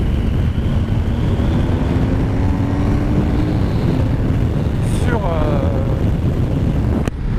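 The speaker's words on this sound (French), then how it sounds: "il y a beaucoup de vent aujourd'hui" Strong wind roars steadily against the microphone during a motorcycle road trip on a BMW, a loud, dense, continuous rush with a low hum underneath.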